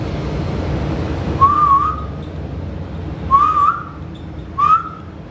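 Cockatiel whistling three short rising-and-falling notes at intervals over a low background hum, clear and fairly close, with no talk.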